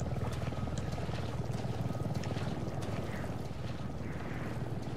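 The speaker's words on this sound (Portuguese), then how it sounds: "Barulho de helicóptero." Steady rotor thump with a low droning roar, continuous and loud, like a helicopter hovering nearby in a game scene in Resident Evil 7.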